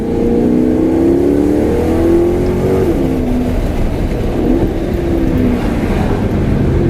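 A 2013 Maserati GranTurismo's engine revs loud and close on downshifts, its pitch climbing and falling in throaty blips while driving.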